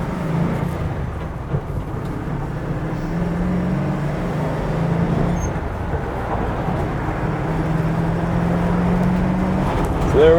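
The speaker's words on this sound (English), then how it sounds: "Highway driving in a Defender." A 1994 Land Rover Defender 90 cruises at highway speed, a steady low engine drone blended with road and wind roar from big knobby tires, constant and unbroken from inside the cab.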